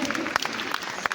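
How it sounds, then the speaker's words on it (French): Brief audience applause at a business conference, scattered sharp claps with a voice talking over them. "Est-ce qu'on peut applaudir pour elle?"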